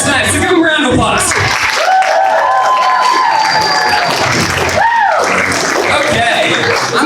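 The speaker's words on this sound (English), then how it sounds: "so give them a round of applause" A crowd at a Care Week event claps and cheers for the players, loud and continuous, with shouts, whoops and chuckles mixed in and voices talking through it.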